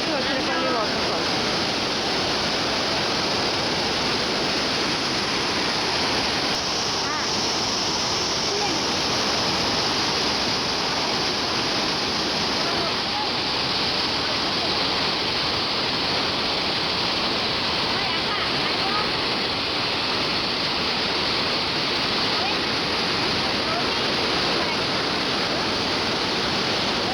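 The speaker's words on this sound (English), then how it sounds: "Vazhachal waterfalls near to Athirapally waterfalls." Vazhachal waterfall near Athirapally pours in a steady, loud, dense roar that fills the whole span without break, broadband rushing water with no pauses.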